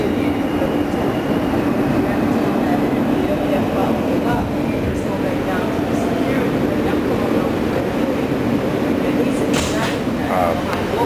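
A Q subway train at West 8th Street Station in a train simulator game rumbles loudly and continuously, with rhythmic wheel clatter and a few faint metallic squeals.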